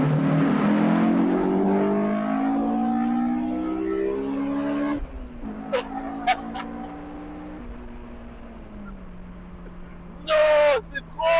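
Honda S2000 engine revving hard from inside the car, pitch climbing steeply through the gears as VTEC engages, then a gear change drops it to a steadier drone, with brief exclamations from people in the car.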